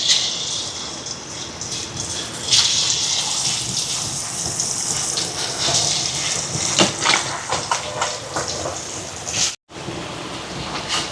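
Steady loud sizzling and crackling of fish frying in hot oil, a dense hiss with sharper pops, cutting out briefly near the end.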